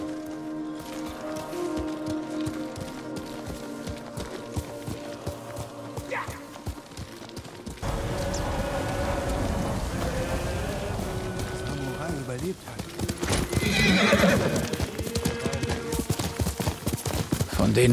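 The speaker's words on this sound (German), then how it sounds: "Du bist ein braves Pferd," Hooves clip-clop steadily and a horse whinnies amid battle noise and a music score in the samurai video game Ghost of Tsushima, with voices speaking over parts of it.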